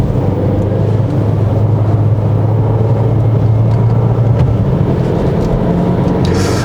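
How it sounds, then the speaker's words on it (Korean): A 2020 Renault Samsung XM3 TCe 260 is driven in a low gear on a winding road, giving a steady loud low engine drone mixed with road and cabin rumble. "그 카랑카랑한 그 엔진 사운드가 좀 들렸습니다."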